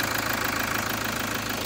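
A 2013 Toyota Hilux Workmate turbo diesel idles with its bonnet open, giving a steady, close, loud clatter and rhythmic diesel knock under a constant mechanical hum.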